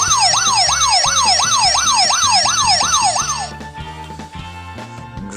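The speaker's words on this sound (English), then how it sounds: "Siren, that sounds like a UK version of a siren." A handheld electronic sound effects toy plays a UK-style two-tone wailing siren, loud and repeating rapidly for about three seconds before cutting off into quieter background clatter.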